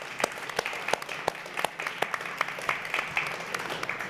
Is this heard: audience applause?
yes